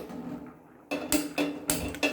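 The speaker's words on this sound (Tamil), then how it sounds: "அடுப்பை பற்ற வச்சு" A kitchen stove is lit for cooking, giving a quick series of four or five sharp, close clicks after a brief quiet moment.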